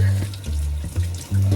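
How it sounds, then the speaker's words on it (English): Water from a kitchen or bathroom tap splashes into a sink during handwashing, flowing in uneven bursts as hands move under the stream, close by with brief voices in the background. "Evan, wash your hands."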